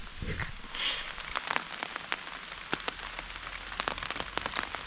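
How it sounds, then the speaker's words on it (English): Rain patters on a tent at a campout, a steady close hiss of drops with sharper individual taps scattered throughout, fairly quiet and with no talking. "It's been raining for like 2 hours."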